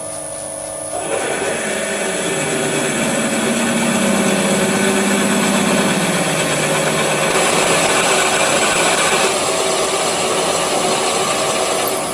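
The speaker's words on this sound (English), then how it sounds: "No need to drill the pilot hole all the way through the workpiece." A power drill with a 12mm bit whines steadily as it bores into a metal workpiece, a loud continuous mechanical drone with shifting pitch, no voices.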